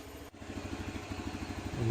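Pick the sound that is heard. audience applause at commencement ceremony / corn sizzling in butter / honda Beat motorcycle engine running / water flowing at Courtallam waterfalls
honda Beat motorcycle engine running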